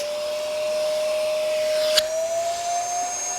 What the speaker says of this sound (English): So we can conclude from that the Zero G is a powerful vacuum.